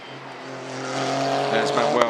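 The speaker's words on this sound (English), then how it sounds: "Here is the Optimum Motorsport number 72 making its way out onto the circuit." An Optimum Motorsport GT race car, number 72, drives out onto the Barcelona circuit during GT Cup Open qualifying, its engine a steady rising drone that builds toward the end, with a commentator talking over it.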